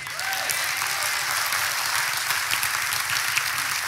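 A sermon audience claps in a dense, sustained round of applause that holds at a steady loud level throughout, with no voice over it.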